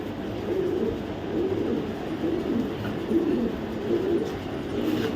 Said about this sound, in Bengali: শ্যাডেল রেসার একটা মাদি কবুতর